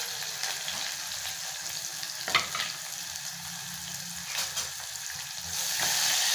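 Onions frying in hot oil in a pan for kichdi, a steady close sizzle with brief stirring scrapes and louder crackling toward the end, no voices.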